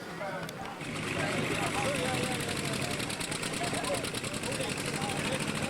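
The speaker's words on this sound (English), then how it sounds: "it's John Boatman pulling the old John Deere A." Antique John Deere A tractor pulls at an open antique tractor pull at a festival, its engine a loud, steady, rough drone from a short distance with crowd and talk underneath.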